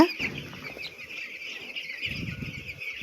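Young broiler chickens on a farm on their ninth day of rearing cluck and stir softly, with bursts of wing flapping and scuffling over a steady high-pitched chirping chorus, no talking.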